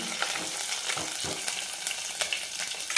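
Dried red chilies crackle and sizzle in hot oil for a tempering, a bright continuous close frying hiss with small pops scattered throughout.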